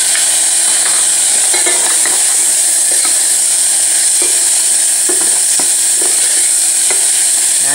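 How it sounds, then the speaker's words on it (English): Tomatoes hit a hot pan of dal and sizzle loudly and continuously, with frying hiss and occasional stirring clatter right up close. "At this point, I will add my tomatoes."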